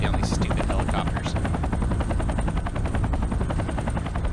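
Helicopters in the mech combat game MechWarrior 3 produce a loud, continuous rotor chop with a steady rapid beat, accompanied by bursts of gunfire and dense game noise throughout.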